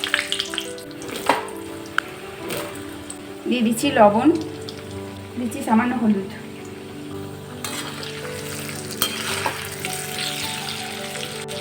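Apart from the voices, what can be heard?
potatoes frying in mustard oil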